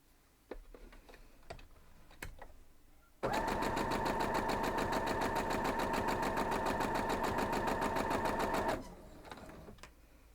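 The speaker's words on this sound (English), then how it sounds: "sewing machine, and we'll get it going" A sewing machine stitching a gallery star quilt block runs in a steady rapid mechanical chatter for about five seconds, preceded and followed by soft clicks and handling of fabric and pins.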